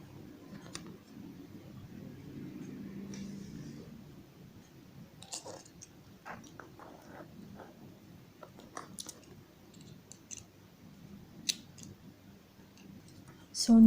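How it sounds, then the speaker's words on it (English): A cutter knife drawn along a ruler slices through leather bag material, giving sparse faint clicks, scrapes and small crunching cuts over a quiet room, with occasional soft handling noises. "So now let's cut using cutter and ruler."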